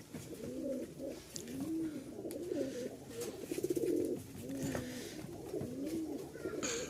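A matched male and female pair of flying-breed pigeons coo repeatedly in soft, rolling phrases close by, with a steady rhythm over quiet background noise.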